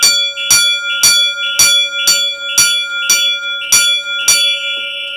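A Faraday 1137 electric fire alarm bell rings code 3 in evenly spaced bursts, about nine loud metallic strikes over a few seconds, forming a steady coded pattern.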